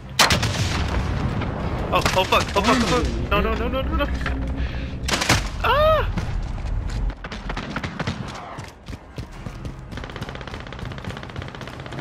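Rocket explosions and gunfire in Call of Duty: Modern Warfare, loud booms and rapid shots packed close together with sharp bursts, while a player curses and shouts over the action.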